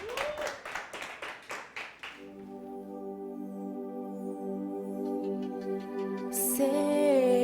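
A studio audience claps for a singer on a Spanish television show, a brief burst of handclaps that fades after two seconds as sustained musical tones from the song's intro take over.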